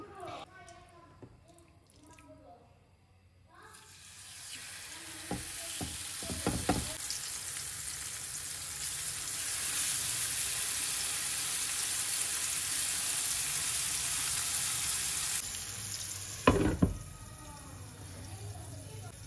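Fish slices frying in a pan, first set on a low flame and later turned up to high, give a steady sizzle that swells after the first few seconds and carries on evenly with a few sharp pops and scrapes.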